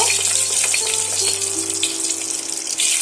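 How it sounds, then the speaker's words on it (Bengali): Eggs fry in hot oil in a pan, giving a steady close sizzle and crackle that runs throughout with no talk. "এইভাবে করে আমি ডিমগুলো হালকা আগে ভেজে নেবো"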